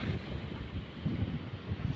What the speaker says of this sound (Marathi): वारा सुद्धा सुटलाय मस्त